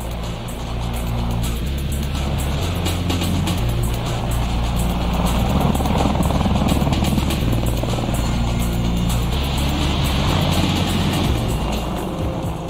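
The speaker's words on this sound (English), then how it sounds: "The Apache aircraft was designed to be a heavy attack platform for the Army." An Apache attack helicopter in flight, a loud, continuous rotor and turbine roar with dense low-end thumping that swells slightly midway and never lets up.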